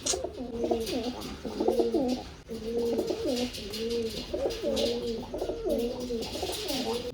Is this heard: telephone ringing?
no